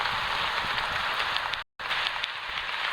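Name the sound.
rain falling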